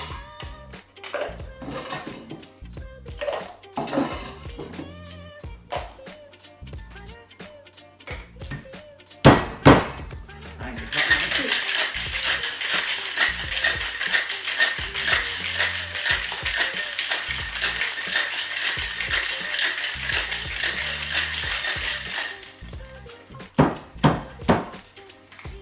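A cocktail shaker packed with ice is shaken hard to mix a smoky Scotch whisky sour, giving a dense, steady rattle and clatter of ice that runs for about eleven seconds. Separate clinks and knocks come before and after it.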